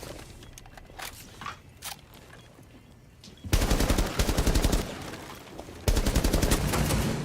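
Gunfire in Rainbow Six Siege on Xbox: scattered distant shots and footsteps at first, then two loud, close bursts of rapid automatic fire, each lasting a couple of seconds.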